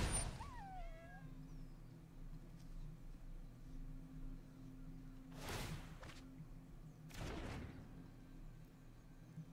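A pet cat named Hawkeye gives a short, rising meow right at the start, close and clear, followed by quiet room hum with a couple of soft broadband rustles later on.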